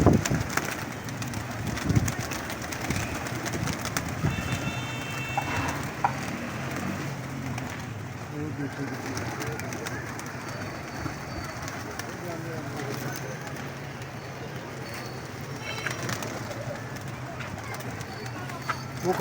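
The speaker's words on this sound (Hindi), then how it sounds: "ये कबूतर उतार रहे हैं नीचे" Pigeons coo with occasional fluttering as they land while a person talks throughout, set against a busy outdoor background in Lahore.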